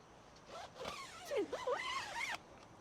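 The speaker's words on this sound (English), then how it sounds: "And then we can just zip this up." A zipper draws closed along the screened fabric of a Go Fast V2 camper tent on a Toyota Tacoma, a close, quiet, drawn-out rasp with squeaky rising and falling tones on a windy day.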